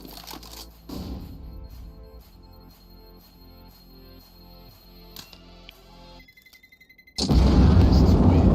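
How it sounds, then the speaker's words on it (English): A flashbang grenade goes off in a video game: a run of short quiet beeps, then a sudden loud blast near the end that hangs on as a wide, harsh roar over background music. "Flashbang."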